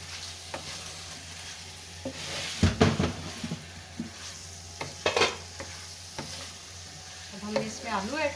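Potatoes frying with carrots and peas in a pan for a mixed vegetable dish, a soft sizzle punctuated by clanking stirs and scrapes of a utensil against the pan, with a faint squeal near the end.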